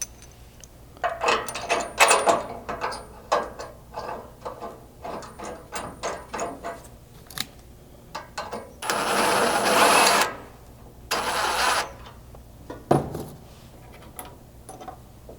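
Bolts being run in on a Bronco winch plate, with bursts of ratcheting and mechanical clicking, a longer continuous whir of a powered driver, and scattered clanks and pauses between.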